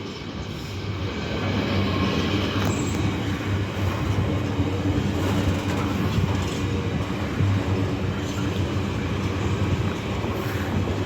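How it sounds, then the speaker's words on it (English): Class 66 locomotive 66731 hauls a ballast train past at Peterborough: a steady, loud rumble of wheels and wagons rolls by continuously, with no voices. "Not sure ideally where this ballast train is from, but this is 66731"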